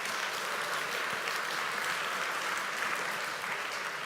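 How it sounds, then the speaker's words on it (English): Conference audience applauding a speaker, a dense, even wash of clapping from many hands sustained throughout at moderate level with no talk. "we can give him a round of applause."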